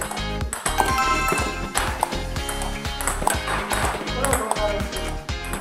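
Table tennis balls struck repeatedly in backhand-side multi-ball practice, returning backspin pushes with backspin, giving quick regular pings over a dense, steady backdrop of other sound.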